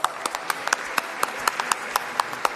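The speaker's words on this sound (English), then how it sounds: "Let's give him another huge round of applause." Sparse, scattered hand claps from a small audience at a sport awards ceremony, irregular sharp smacks spread over a couple of seconds, fairly light and close.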